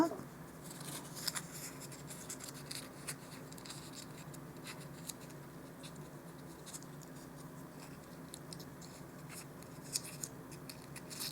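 Scissors snipping the small corners off paper for dollhouse miniature lunch bags, a series of faint, close cuts and light paper rustles spread across the stretch with no talking.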